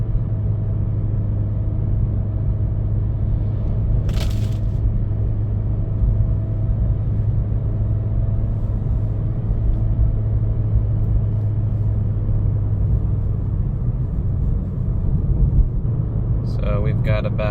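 Cabin noise inside a 2023 Acura Integra cruising at about 3,000 RPM and roughly 62 mph. A steady, dense low engine and road drone holds throughout, with a brief hiss and faint clicks near the end.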